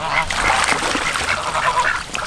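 Geese honking around a backyard kiddie pool shared with ducks, a loud close flurry of overlapping nasal honks and quacks filling the whole moment.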